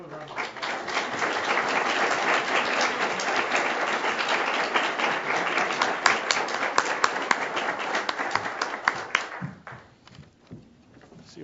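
Audience applause at a school board meeting, a dense burst of clapping that holds for several seconds, then thins into scattered claps and fades toward quiet, with a voice speaking briefly over it.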